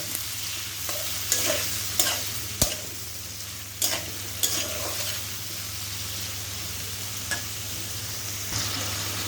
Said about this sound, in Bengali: এখন আমি সুন্দর করে একটু সময় নিয়ে ভেজে নিব